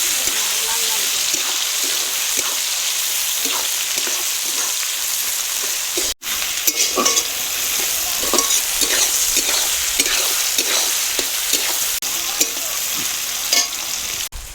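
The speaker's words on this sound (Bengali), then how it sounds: "এবার আমি ফোড়নো দিয়ে দেবো তেজপাতা গোটা গরম মশলা দিয়ে দেবো পেঁয়াজ ভালো" Bay leaves, whole garam masala and onion frying in hot oil for a chicken and cabbage curry, a steady loud sizzle with repeated scraping stir strokes throughout and one brief break midway.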